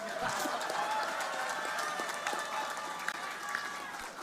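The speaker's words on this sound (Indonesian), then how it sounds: "Ayo yang belakang tuh tepuk tangan yang keras" Applause from an audience at a public speech by Megawati opening a mangrove botanical garden in Surabaya, a continuous, fairly distant patter of clapping with crowd murmur beneath it.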